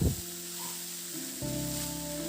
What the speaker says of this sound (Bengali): আদাটা দিয়ে একটু নাড়াচাড়া করে নেব